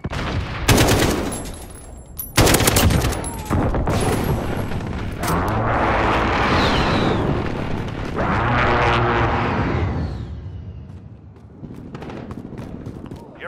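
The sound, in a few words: enemy precision airstrike in Call of Duty video game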